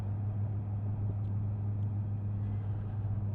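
A 2023 Honda CB650R motorcycle rolls downhill on very little throttle, its engine a steady low hum under a constant rush of wind with no break in the sound.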